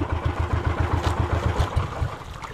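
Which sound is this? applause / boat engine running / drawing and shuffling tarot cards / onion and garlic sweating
boat engine running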